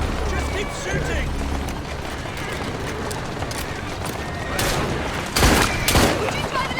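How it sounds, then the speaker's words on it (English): Gunfire from the Assassin's Creed Syndicate video game, with a few sharp, loud shots near the end over rumbling, hoof-like clatter and busy game noise. Voices talk throughout. "Just keep shooting!"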